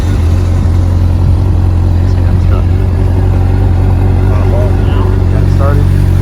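A Honda CBR 600RR sport bike engine runs loud and close, with a steady low idle rumble throughout and a person talking over it.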